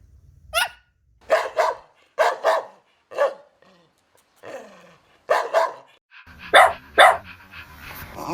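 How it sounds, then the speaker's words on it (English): A dog barks repeatedly in short, loud bursts with a few irregular gaps, some barks close together, heard alone without talking. "Dog."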